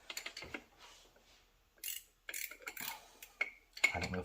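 A ratchet wrench tightening a fitting on a 1993 GMC Typhoon, heard as a few short, scattered bursts of clicking and metallic scraping between quiet gaps, close by with no talking.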